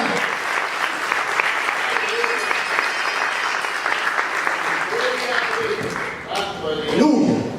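A church congregation applauds in sustained, dense clapping that fills most of the stretch, fairly loud, then thins as a voice speaks over the end.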